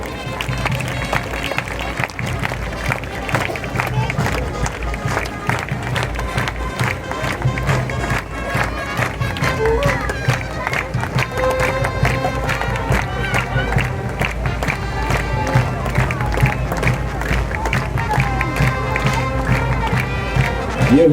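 At the 2022 Silver Trumpet and Trumpet Banner ceremony at Rashtrapati Bhavan, a crowd claps steadily in time with a drum beat while mounted troops trot past, forming a continuous rhythmic patter over a low outdoor rumble.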